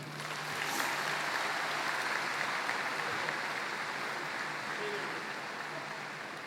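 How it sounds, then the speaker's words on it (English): Sustained applause from a large crowd at the Atholton High School 2022 commencement ceremony, a broad, steady wash of clapping that holds for several seconds before easing slightly, with possible cheering mixed in. "Please give a thunderous round of applause for Howard County Superintendent of Schools, Dr. Michael Martirano."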